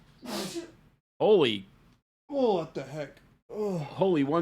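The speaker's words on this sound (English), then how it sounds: "That was like a machine gun of sneezes." A rapid burst of sneezes from a man, several sharp explosive bursts in quick succession separated by short pauses, close and fairly loud, with his own exclamations mixed between them.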